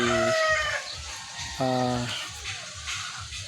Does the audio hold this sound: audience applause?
no